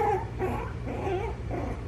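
A puppy whimpers in a few short, high, wavering whines over a steady low rumble, close by with no talk.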